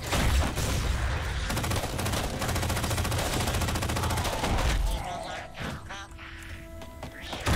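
Rapid, sustained LMG gunfire in Halo 4 rattles densely for about five seconds before trailing into quieter game effects, with a voice talking over it.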